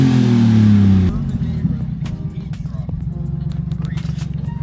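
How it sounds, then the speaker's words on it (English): A small RC kei truck drives close by with a buzzing electric motor and gritty rolling and scraping on the ground, pulsing as it moves. Loud voices talk over it at the start. "We got bro driving the RC K-Truck."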